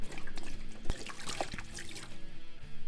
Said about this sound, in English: We starting off with some rum.